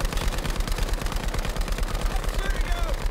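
Rapid automatic gunfire from a Battlefield V match, a steady stream of close, loud shots rattling throughout, with players' voices talking over it.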